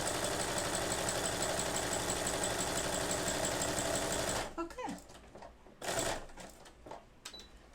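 A sewing machine stitching calligraphy-style embroidery runs at a steady, rapid mechanical whir for about four seconds, then stops, leaving scattered handling clicks and a short burst of noise.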